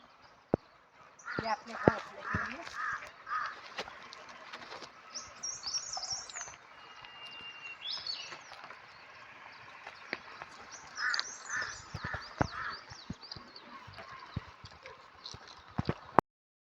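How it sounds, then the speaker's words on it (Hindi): On a walking trek, a crow caws in a short rhythmic series, repeats the calls later, and other birds chirp faintly. A person talks over the outdoor ambience. "पास से दिखाती हूँ कौवे को।"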